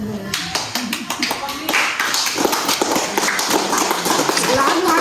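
Rapid clapping from a group of friends, dense overlapping claps building into steady applause, close and loud, with people talking and calling out over it.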